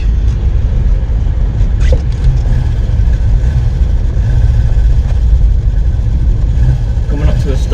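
A restored barn-find car with loose gears and poor brakes drives steadily in fourth gear, its engine a constant loud low drone with road rumble throughout.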